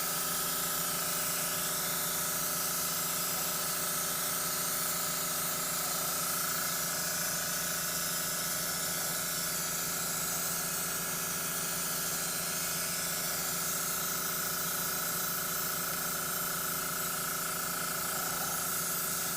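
An airbrush sprays paint in a steady, continuous hiss with a faint whine underneath, holding an even level throughout with no talking.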